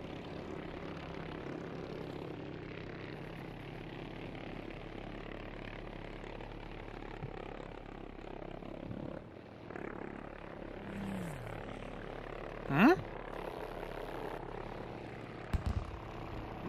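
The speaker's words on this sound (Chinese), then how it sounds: "我刚听到战斗机的声音。" A fighter plane engine drones steadily in the World War II shooter Battlefield V, with a brief rising whine near the end as an aircraft seems to pass close by, heard under game ambience with no talking.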